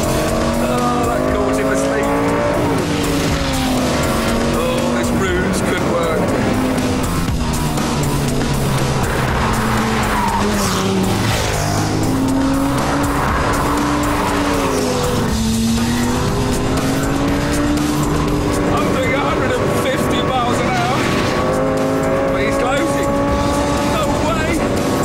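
On a race track, a Lamborghini Gallardo Superleggera's engine roars through rising and falling gear changes while racing a Ducati 1098 motorcycle. The sound is loud and continuous with brief tire squeal, and a presenter talks over it throughout.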